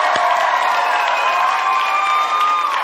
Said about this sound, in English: Let's give her a round of applause real quick.